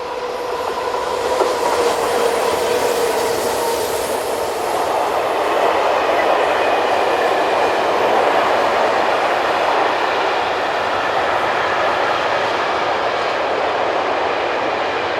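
Westbound intermodal freight train hauled by a pair of diesel locomotives rumbles past close by, a steady, loud roar of wagons and wheels with faint clickety-clack and a hint of squeal running the whole time.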